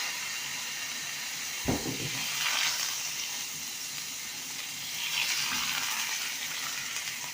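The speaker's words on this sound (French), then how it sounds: "Retourner le steak." A steak frying in butter in Red Dead Redemption 2, a soft continuous sizzle and hiss with a brief thud as the meat is turned, then a second quieter swell of sizzling.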